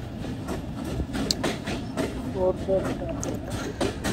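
A train at Noapara railway station on the way to Khulna, with a steady, loud rumble of rail noise and clatter running throughout, while voices sound faintly in the background.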